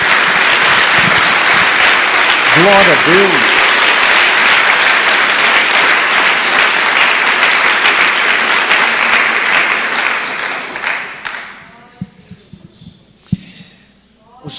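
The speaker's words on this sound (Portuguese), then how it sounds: "Dê uma salva de palmas a Jesus" A church congregation claps loudly and steadily for Jesus, a dense sustained applause that fades out near the end, with voices calling out over it and brief taps after it dies down.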